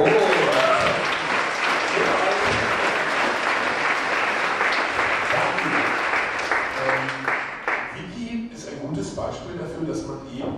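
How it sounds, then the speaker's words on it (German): Audience applause in a Karlsruhe venue, steady dense clapping filling the room for several seconds and tapering toward the end, with people talking over it. "Applaus dafür."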